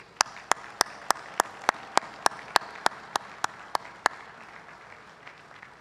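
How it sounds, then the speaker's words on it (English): At a national convention's opening ceremony, a dozen or so sharp, evenly spaced claps ring out in a steady rhythm over a faint background hum, then stop. "please join me in a round of applause for Peter Olay"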